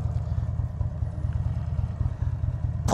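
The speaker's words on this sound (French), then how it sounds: "Ah puis ce son au ralenti là" A Buell XB12S motorcycle idles with a low, lumpy, uneven V-twin throb, close and steady for a few seconds before a brief louder burst at the end.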